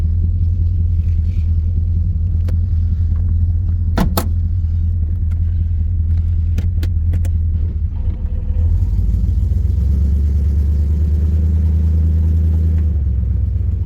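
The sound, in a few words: 1978 Chevrolet Camaro engine rumbling while driving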